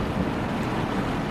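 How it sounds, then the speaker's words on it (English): Torrential downpour at a campsite, a dense, steady roar of heavy rain drumming without a break, loud and close throughout with no voices. "This is a torrential downpour."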